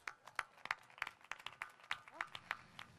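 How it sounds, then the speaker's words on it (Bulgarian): In a studio, a small audience claps for a guest, Mr. Martin Zaimov, with about a dozen distinct, evenly spaced claps in a steady rhythm at moderate distance. "Аплодисменти за господин Мартин Заимов."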